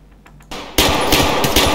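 Gunfire in Escape From Tarkov on the Interchange map, a sudden loud shot followed by a dense, rapid automatic burst with sharp, evenly spaced cracks, no talking.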